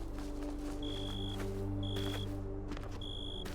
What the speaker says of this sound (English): Stop with the fucking beeping.